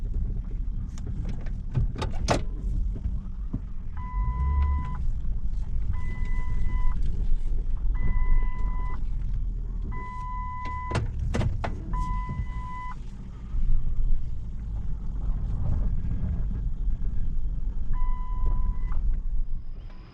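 A 2000 Lincoln Town Car with air suspension drives around town, a steady low engine and road rumble heard from inside, with a repeating electronic chime beeping at regular intervals and a few clicks.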